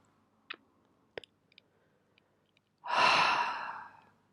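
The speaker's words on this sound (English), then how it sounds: "take a deep breath." A person draws a slow, deep breath, a long airy inhale close to the microphone after a few faint clicks in near silence.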